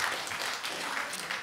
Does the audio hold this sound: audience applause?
yes